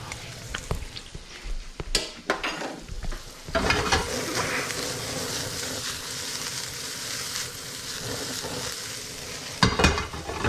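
Mushrooms and leeks fry in a pan for polenta soup. A steady close sizzle runs throughout, broken by scrapes and knocks of a spoon stirring against the pan.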